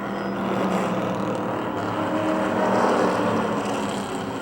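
Stock race cars racing at Motordrome Speedway make a continuous roar of engines that swells slightly as cars pass, heard from a distance with a steady crowd-and-track wash beneath.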